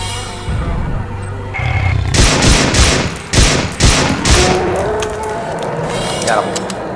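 System Shock 2 gunfire fires in a close, loud burst of rapid shots, with a few more cracks after it, over a game backdrop and brief speech.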